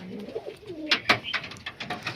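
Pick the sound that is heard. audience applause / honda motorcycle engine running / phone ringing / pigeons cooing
pigeons cooing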